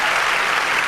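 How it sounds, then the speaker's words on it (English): Audience at a school board of education meeting breaking into steady, dense applause, a continuous wash of clapping that fills the whole moment at close range. "We'll give her a round of applause for taking care of that."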